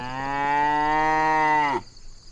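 A dairy cow on an old farm with a barn over a century old gives one long, loud, steady moo close by, ending abruptly, with no talk.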